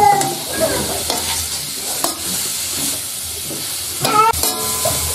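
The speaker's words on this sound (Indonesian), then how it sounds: "Lalu kita masukkan jamur. Ini kita tumis dengan" Mushrooms stir-fried in a pan for a home-cooked sanggal bulan dish: a steady, close sizzle and hiss runs throughout, broken by scraping stirs and a few sharper clatters of the utensil near the end.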